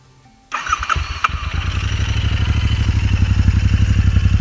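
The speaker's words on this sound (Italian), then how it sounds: "Ora andiamo a sentire il motore." A Royal Enfield Interceptor motorcycle engine, with about 8,000 km on it, cranks and fires up after a brief silence, then settles into a loud, throbbing idle with a steady rhythmic exhaust pulse.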